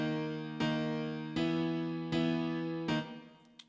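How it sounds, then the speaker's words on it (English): Four sustained piano chords are struck one after another at an even pace, alternating between two harmonies, each ringing and fading before the next. "A very simple chord pattern, just two different chords,"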